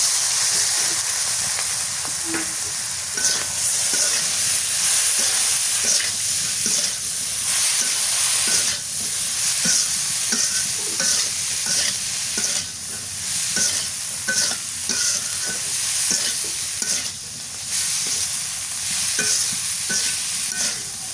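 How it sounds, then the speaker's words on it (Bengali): Potatoes and taro fry in a pan in a village kitchen on a rainy day, giving a steady bright sizzle with repeated scraping stirs throughout, close and continuous with no talk. "আলু আর কচুটা দিয়ে দিই"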